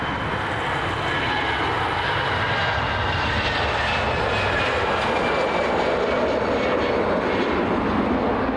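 An Iberia Express airliner at Dublin Airport roars with a broad, continuous engine rumble and a faint whine layered on top, loud and steady throughout, with no voices over it.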